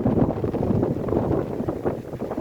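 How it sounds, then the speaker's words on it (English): Strong wind buffets the microphone on a mountain hiking trail in the Cheaha Wilderness of Talladega National Forest, a loud, rough, continuous low roar with no voices. "Wind is crazy"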